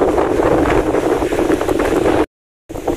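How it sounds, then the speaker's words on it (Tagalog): Strong wind roars against the microphone outdoors at a village barangay hall under a darkening sky, loud and continuous buffeting before a brief cut to silence and then more gusting. "Lakas ng hangin."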